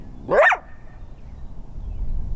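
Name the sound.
trapped coyote barking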